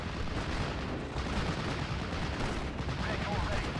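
Gunfire in a Steel Division: Normandy 44 battle, a steady dense wash of shots and rumbling fire holding at a constant loud level throughout, with no clear gaps between reports.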